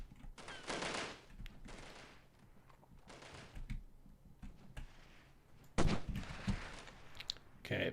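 Gunfire rings out in the video game Delta Force (1998), with several sharp bursts of shots spread across the scene and quieter gaps between them, near and loud, and no talk.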